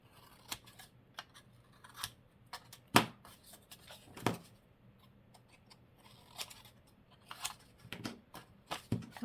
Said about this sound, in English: I got myself all these new pairs of scissors to trial from Lincraft.